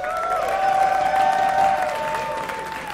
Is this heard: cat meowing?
no